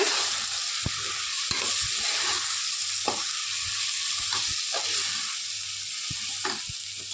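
Mixed vegetables and soaked soy chunks sizzle steadily in a hot pan for a vegetable biryani, while a spoon scrapes and stirs with irregular sharp knocks against the metal, close and with no talking.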